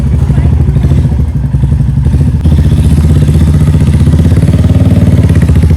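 A motorcycle carries a rider and a passenger sitting astride, its engine a loud continuous low chugging throb up close, with wind and road rumble throughout.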